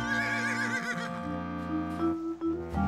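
A horse neighs in a long, wavering whinny, loud and close, followed by shorter breathy nickers.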